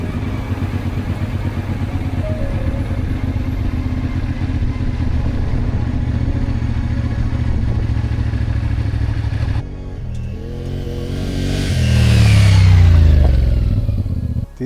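A motorcycle rides along the N13 road through open countryside in Morocco, its engine droning loudly and steadily before dropping briefly and then revving up and rising again near the end.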